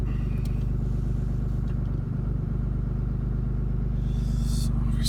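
A Cummins 6.7 diesel idles after a cold start with the exhaust brake engaged, giving a loud, steady, low rumbling drone with a faint rhythmic clatter throughout and no talking.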